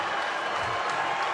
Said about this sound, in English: And the crowd loves it, Grant.